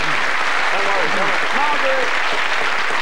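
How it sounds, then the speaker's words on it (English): Studio audience applause for the red team on the snooker game show Big Break, steady and fairly loud, with people talking over the clapping. "Round of applause, our red team."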